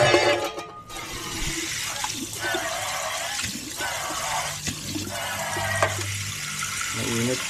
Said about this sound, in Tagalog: lagyan natin tubig to